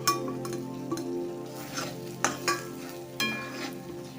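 Egg paneer cooking in oil over a low flame, a soft continuous sizzle with intermittent spoon scrapes and stirring clinks against the pan, close and moderately quiet, no voices.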